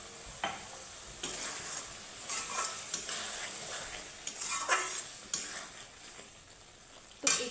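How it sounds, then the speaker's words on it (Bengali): Water goes into a pan of frying yardlong bean curry, setting off bursts of loud sizzling and hissing that swell and fade several times, with light stirring in between. "তো এখানে আমি সামান্য পরিমাণে জল দিচ্ছি"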